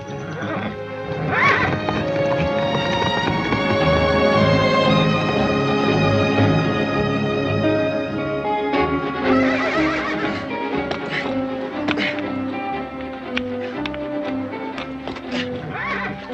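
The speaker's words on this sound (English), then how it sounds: "Abner, you stand real still now, you hear? You listen to horse." A horse gives a long, loud neigh, followed by shuffling hoof stamps and snorts that come close and loud.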